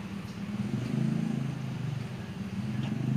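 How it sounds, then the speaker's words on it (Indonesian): A compost aerator machine that pumps oxygen into waste water runs steadily, giving a constant low mechanical hum and rumble that is moderately quiet with no pauses. "mesin aerator ini"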